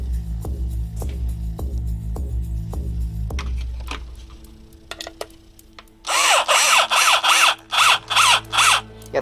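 A power drill drives screws through a DIY guitar pedal board, its motor humming with rhythmic pulses, then a pause before a series of sharp, loud bursts of the tool working near the end.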